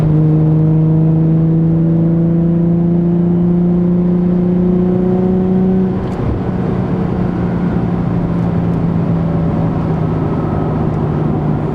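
Nissan 350Z/370Z with an Invidia Gemini catback and Berk high-flow cats, heard from inside the cabin while cruising in fifth gear around 3,000 RPM: a steady droning exhaust hum that shifts tone partway through, then a broader rumble.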